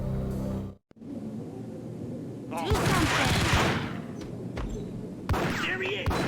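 Gunfight in Max Payne: a dense burst of rapid gunshots after a brief pause, loud and close, following talk between characters.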